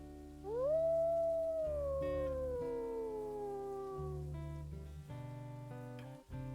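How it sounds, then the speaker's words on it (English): A wolf in a video game lets out a single loud howl that swells quickly, then glides slowly downward in a long mournful tone before fading, heard alone and close. "Let's do a howl."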